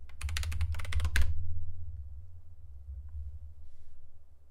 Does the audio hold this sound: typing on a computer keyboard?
yes